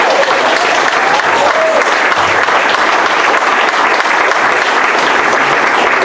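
Loud sustained applause from an audience at a Nightmare on Elm Street convention panel, dense clapping filling the room with a few faint voices mixed in.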